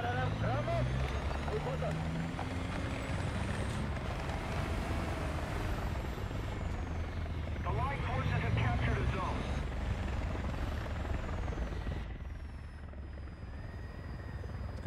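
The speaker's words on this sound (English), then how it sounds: "Is a heli also above me?" Helicopter hovering overhead in the War Thunder video game, a loud continuous rotor chop and engine drone close by, fading slightly near the end, with someone talking over it.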